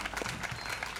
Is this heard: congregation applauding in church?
yes